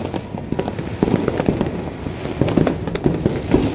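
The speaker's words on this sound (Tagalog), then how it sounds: "fireworks!" Fireworks crackle and pop in rapid bursts, with sharper bangs scattered throughout, fairly close and continuous.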